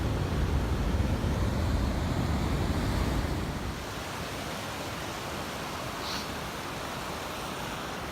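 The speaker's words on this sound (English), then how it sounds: "I'm here at the last falls. It's Lewis Falls." Lewis Falls on the Lewis River in Yellowstone rushes as a steady broadband roar of falling water, loud at first and then softer and more distant, with wind buffeting the microphone.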